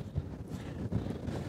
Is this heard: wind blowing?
yes